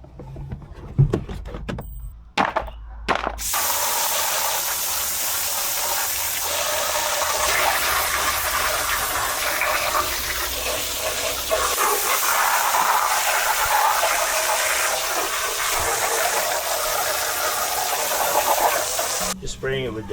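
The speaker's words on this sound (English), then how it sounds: "Just spraying it with the degreaser." A steady, loud hiss of degreaser spraying onto a dirty Jeep Wrangler part goes on for many seconds, broken only by a few short bursts at the start.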